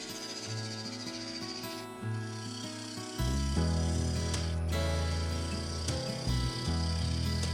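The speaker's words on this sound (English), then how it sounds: "Going back to the gouge, I had a go at a few more push cuts, shaping the side of the bowl into the base" Gouge taking push cuts on a spinning maple bowl as it is shaped from the side into the base, giving a faint, steady cutting hiss over the lathe's low tonal hum, with a shift in tone partway through.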